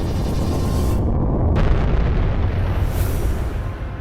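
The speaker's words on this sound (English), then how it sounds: "A leaked video revealed an explosion that had destroyed the capsule." A SpaceX Dragon 2 capsule explodes during a SuperDraco abort-engine test, producing a sustained, loud broadband roar and rumble that fills the whole stretch with no break and no voices.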